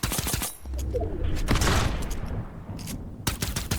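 Gunfire in Fortnite aimed at a giant donut sign comes as a loud volley of sharp shots, followed by a rumbling crash and rattling debris, then more scattered shots.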